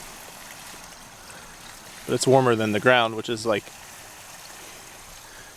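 Water from a draining hot tub runs in a soft, steady trickling flow, faint and continuous throughout, while someone speaks briefly in the middle.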